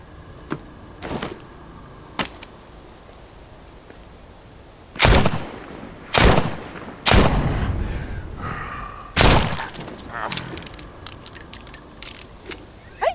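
Gunshots at zombies in The Walking Dead: Saints & Sinners VR game, four loud, sharp, evenly spaced shots with ringing tails, preceded and followed by lighter clicks and clatter of handling.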